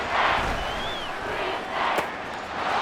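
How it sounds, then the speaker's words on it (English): Stadium crowd noise in Madden NFL 24 during an Eagles vs Seahawks game, a steady broad roar swelling and falling in waves, loud and continuous, with no talk in the moment. "This crowd turning up the decibel level"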